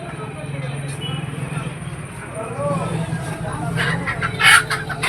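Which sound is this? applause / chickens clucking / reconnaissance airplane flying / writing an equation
chickens clucking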